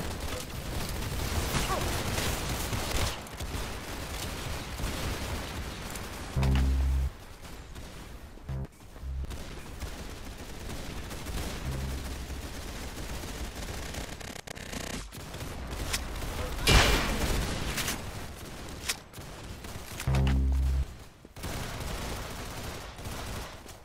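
Gunfire from a Roblox Arsenal match played on PS5 crackles in repeated shots and short bursts, with several sharp, loud cracks standing out over a constant background of game noise and music.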